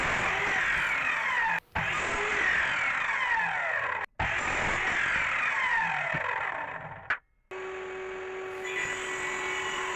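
Small electric chop saw cutting through pallet boards, a loud whining motor with rising and falling pitch over repeated cuts, briefly stopping between passes.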